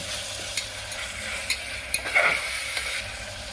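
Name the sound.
ginger garlic paste frying in a pan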